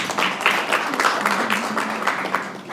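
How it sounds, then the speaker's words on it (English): An audience claps at a live press club event, with a steady patter of hands lasting a few seconds while a voice talks over it. "Let's clap for her."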